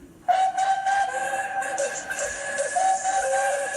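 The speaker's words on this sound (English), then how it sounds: "This was the signal for a chorus of whistles from engines large and small." Several steam engine whistles blare together and hold steadily, a loud sustained chorus of overlapping tones starting abruptly and continuing throughout.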